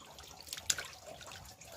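Water runs faintly while a boy washes dried fish, a soft continuous splash with a brief sharper clink partway through.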